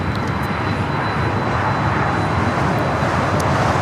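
Embraer Legacy 500 business jet at LAX, a loud continuous broadband jet roar with steady low rumble, no voices.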